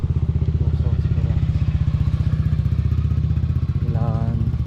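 A motorcycle rides downhill near People's Park in the Sky in Tagaytay City, its engine giving a loud, close, rhythmic chugging throb, with a rider's voice briefly heard over it.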